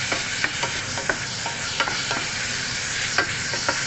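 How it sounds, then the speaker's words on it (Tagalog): Onions and beef sizzle in a frying pan with a steady, close hiss, broken by light clinks and scrapes of stirring. "Tunog na yung onions."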